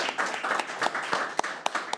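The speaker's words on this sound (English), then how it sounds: "Round of applause for Chelmsford Telecommunications." Applause from an audience at a town committee candidates' forum, a steady patter of many hands clapping, moderately near, with a few sharper individual claps standing out.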